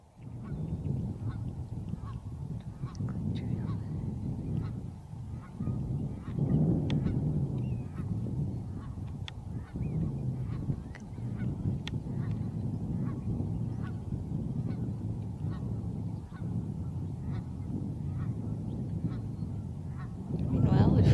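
Geese honk repeatedly over a steady outdoor rumble at Tawayik Lake, Elk Island National Park, Alberta, a busy flock calling in overlapping bursts at moderate distance, with faint talk mixed in.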